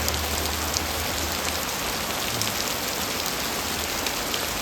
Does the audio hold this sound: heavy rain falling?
yes